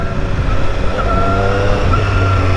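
Triumph Street Triple RS 2020 motorcycle engine pulling steadily in second gear, a continuous loud rumbling drone with a rising tonal whine, close and alone without talk.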